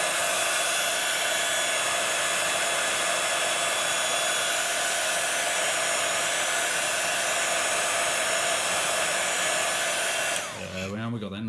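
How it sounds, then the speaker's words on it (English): A craft heat tool blows hot air to dry Rusty Hinge ink, a loud, continuous whooshing roar held steady for about ten seconds before it cuts off. "again, I'm coming in with my heat tool."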